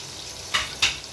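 Chopped onion and garlic drop into hot oil, raising two quick bursts of loud sizzling over a steady, quieter frying hiss.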